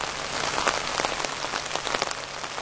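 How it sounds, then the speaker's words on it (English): Heavy rain pours steadily onto a hard surface at a bus stop, a dense, even hiss with scattered close drops pattering on top, with no talking. "the rain's getting heavier, which means the storm's getting closer"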